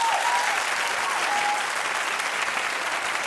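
A studio audience claps in a broad, steady wash of applause that fills the whole stretch at an even, fairly loud level, with no clear talk over it.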